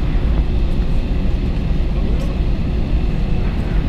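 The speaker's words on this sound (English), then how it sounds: "runway 27 left, clear for takeoff" An Airbus A321 takes off from runway 27 left at Philadelphia at sunset, its jet engines a loud, steady broadband roar that fills the whole clip.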